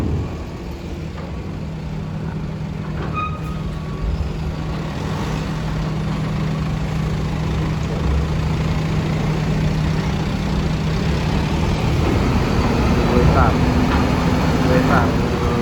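A heavy truck idles at the Merak port ferry terminal, giving a steady low diesel hum with a droning tone that continues throughout, while faint voices come and go.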